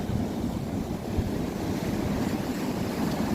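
Strong ocean waves break against a shore lined with large boulders, a steady loud roar of surf and wind rushing through the whole stretch with no voices.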